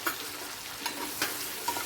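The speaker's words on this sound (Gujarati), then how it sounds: "હળદરને સારી રીતે હલાવીએ" Short burst of frying sizzle as turmeric is stirred into a hot pan, with a few rhythmic scraping strokes of a spoon, close and clear.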